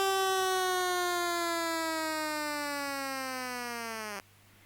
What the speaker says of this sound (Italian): intanto suona la sirena